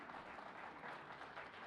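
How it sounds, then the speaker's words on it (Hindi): An audience at a women's mushaira poetry recital applauds, a steady wash of many hands clapping, fairly faint and distant, with no talk. "तालियां बजा दीजिए।"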